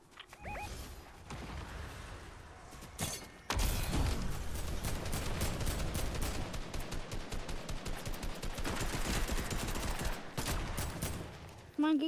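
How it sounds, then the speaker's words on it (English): Fortnite gunfire rattles in rapid automatic bursts, a long, loud, dense stream of shots after a quieter opening with a few scattered pops. A player's voice is heard beneath the shooting. "There's so much shooting over here."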